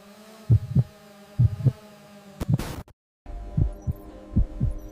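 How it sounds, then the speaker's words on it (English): A synthesized heartbeat effect thumps in paired beats, lub-dub, repeating steadily over a low electronic hum, broken by a sharp static burst and a moment of silence before the doubled beats resume. "Every monitor echoed the same signal, a synchronized heartbeat across the network."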